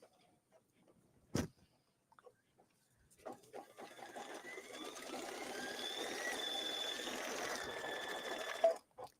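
A Brother Luminaire embroidery machine starts stitching after a sharp click and a few brief knocks, then settles into a steady, fast mechanical whir and rattle that runs for several seconds before stopping, close by and fairly quiet, with no talking.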